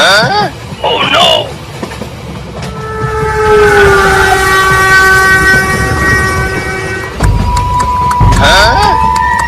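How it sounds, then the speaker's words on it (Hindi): A cartoon train passes through a jungle, its horn blowing a long sustained chord over steady rumbling and clattering wheels, with animated character voices talking briefly at the start and end. "अब ट्रेन जंगल में से होकर गुजरेगी"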